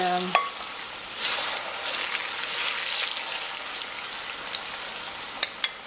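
Plantain slices sizzling and frying in a Nigerian egg stew on reduced heat, a steady close hiss with a few small clicks and stirring knocks, no talk.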